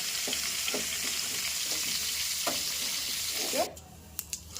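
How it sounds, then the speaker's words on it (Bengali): Cauliflower pieces frying in hot oil, a loud steady sizzle with a few light stirring taps. The sizzle suddenly drops away near the end, leaving quieter clinks. "ফুলকপিটাকে একটু হালকা লাল লাল করে ভেজে নেব"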